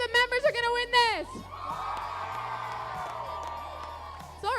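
An FFA state leadership conference crowd erupts into loud, sustained cheering and whooping in a large hall, following a brief spoken introduction, the roar holding steady for several seconds.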